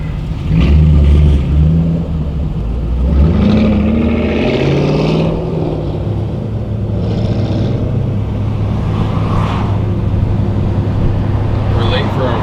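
An E38-engined car cruising along, its engine a low steady hum from inside the cabin with occasional swells in revs, while people talk over it.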